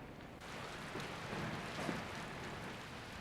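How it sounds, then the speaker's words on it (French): Steady rain falls throughout, a dense broadband hiss without a break, moderately loud and with no voices over it. "Cette pluie qui n'en finit plus."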